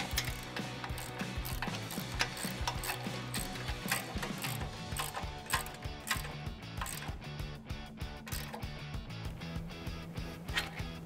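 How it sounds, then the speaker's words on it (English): Rapid, steady ratcheting clicks from a socket ratchet running bumper bolts into a Jeep Wrangler JL during a front bumper install, close and continuous for about eleven seconds with no talking. "Start running our bumper bolts in."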